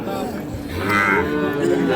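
Cattle at a rural livestock market selling Sahiwal and crossbred bull calves, with one deep, drawn-out moo rising over a low murmur of market background noise.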